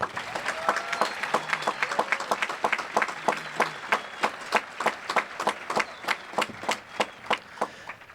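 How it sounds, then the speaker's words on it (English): Applause at a high school graduation starts as a full crowd sound and thins into fewer, sharply spaced individual claps that gradually slow and fade, with faint voices murmuring in the background. "please give them a round of applause at this time"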